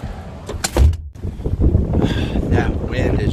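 Strong outdoor wind buffeting in an open field, a steady low rumble with gusty swells and a brief drop in the middle.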